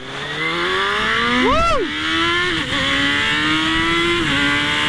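An old-school Honda CBR900RR race bike screams past on a track, its loud high-revving engine climbing and sweeping through a sharp doppler pass, then holding a steady roar with a brief dip near the end.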